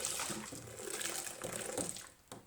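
Cold water is poured into a dish tub of warm, sudsy water in a home without running water, making a soft, steady splashing pour that is fairly faint and ends with a brief trickle.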